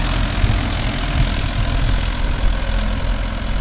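A Mahindra Yuvo Tech Plus 585 DI 4WD tractor engine runs loud and close with a deep, steady throb, holding an even level throughout with no voices.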